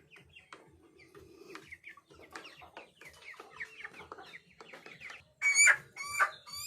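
Forty-day-old koyla chickens cluck in soft, scattered bursts across a poultry shed, rising to louder squawks and a crow-like call near the end, with no talking.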